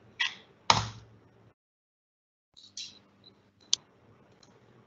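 Computer keyboard typing an email address, a few isolated sharp clicks and taps spaced by pauses, close and clear with no talking.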